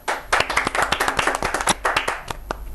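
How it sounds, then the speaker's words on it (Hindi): A contestant on a television quiz show clapping loudly and rapidly in a steady burst of sharp, close hand claps that fade slightly toward the end. "जोर से ताली बजा रही हैं"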